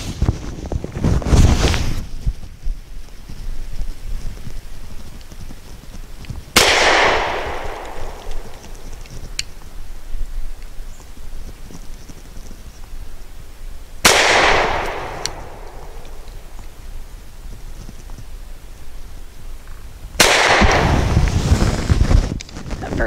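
A Grand Power P1D pistol firing Barnaul steel-cased 115 grain full metal jacket rounds outdoors, four sharp loud reports spaced several seconds apart, each ringing briefly over steady wind noise.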